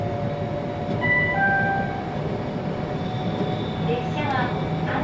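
Ainokaze Toyama Railway train running on rails, a steady loud rumble with rhythmic clatter throughout, plus faint brake or wheel squeals; an onboard announcement voice speaks over the noise.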